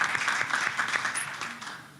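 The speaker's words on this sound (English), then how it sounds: "Round of applause." A panel-discussion audience claps for the panelists in a brief, dense burst of applause that fades toward the end.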